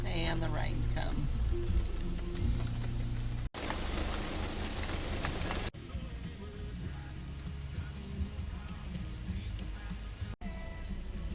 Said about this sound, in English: And the rain's come.